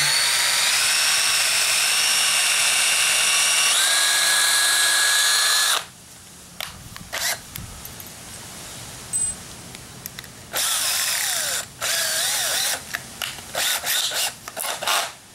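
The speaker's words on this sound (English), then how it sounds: "I'm going to pre-drill towards this." A power drill pre-drills into a wooden board while building a frame for Christmas lights: one long, loud whirring run, then several shorter bursts with quiet gaps between.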